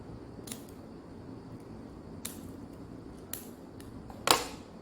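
Scissors snipping paper while making a tulip craft, a few sparse, crisp cuts spread apart, with one sharper, louder snip near the end over a quiet room background.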